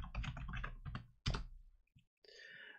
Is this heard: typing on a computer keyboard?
yes